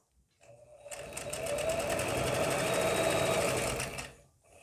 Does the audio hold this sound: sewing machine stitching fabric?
yes